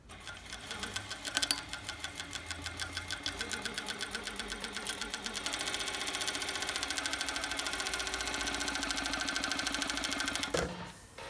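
A New Tech GC-562-01CA flatbed coverstitch machine sews a regular quarter-inch-gauge cover stitch, its rapid steady needle rattle running continuously for about ten seconds after a brief start, then stopping abruptly.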